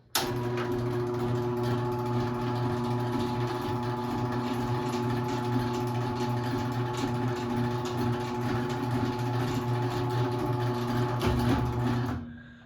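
A Chamberlain Electrolift Executive G5446 garage door opener runs with a steady motor hum and chain whir, loud and unbroken for about twelve seconds before stopping abruptly.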